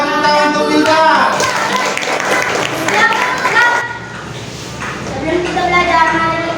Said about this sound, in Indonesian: Tepuk tangan untuk Wildan.